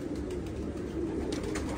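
Pigeons on a balcony coo softly in low, rolling calls over a steady background hum, with a few faint higher sounds and no talk.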